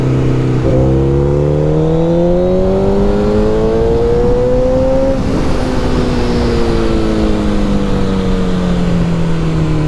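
A cheap fast motorcycle's engine revs hard and loud up close, the pitch climbing steadily, dropping sharply mid-way, then holding and sagging slowly as it runs on.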